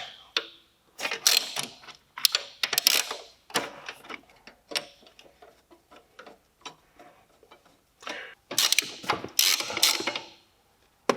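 A ratchet wrench loosens bolts on the starter of a Subaru Legacy B4, giving rapid ticking clicks in repeated bursts with short pauses between them, close and fairly loud.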